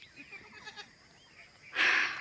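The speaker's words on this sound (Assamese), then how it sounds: "এয়া ছাগলী এজনীকে আহি সোমাই আছেহি" A nanny goat bleats loudly near the end, after a stretch of faint, wavering background noise inside a hut.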